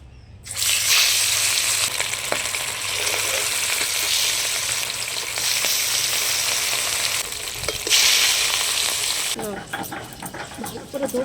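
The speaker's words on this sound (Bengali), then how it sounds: "এবার আমি মাছটাকে ভেজে নেব।" Pieces of katla fish hit hot oil and burst into a loud, dense sizzle that crackles steadily for several seconds before easing off, with faint talking near the end.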